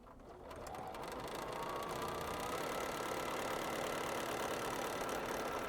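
A sewing machine stitching along the fold of quilt fabric, starting up and settling into a steady, fast, motor-driven whir that continues close and unbroken.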